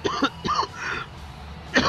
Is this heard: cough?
yes